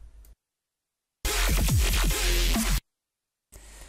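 A gritty, snarling Zomboy-style synthesized growl bass bursts in for about a second and a half, wobbling and distorted, framed by brief fragments and silence.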